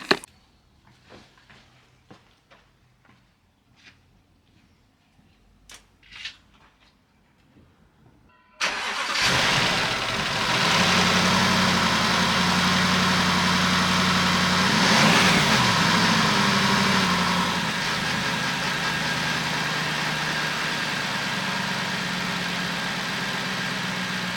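A broken Jaguar XK engine, just reassembled, fires up after several quiet clicks and handling sounds, then settles into a loud, steady idle that holds to the end.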